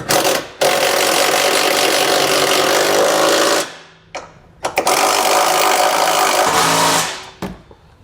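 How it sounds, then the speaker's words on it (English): An impact gun tightens trailer hitch bolts on a 2020 Dodge Grand Caravan with 18 and 15mm sockets. It makes loud sustained rattling bursts with short pauses and a few brief clanks between runs. "we can go ahead and tighten everything down using an 18 and a 15mm socket."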